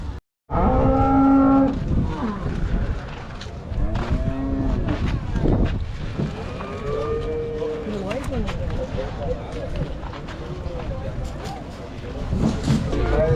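Cows at a cattle farm moo several times, with long, low calls rising near the start and recurring through the middle, mixed with a person talking and general barn noise.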